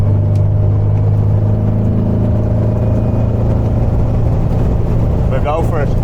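A Volkswagen Beetle drives along the road, its steady engine hum and low rumble running loud and continuous throughout, with a brief rising whine near the end.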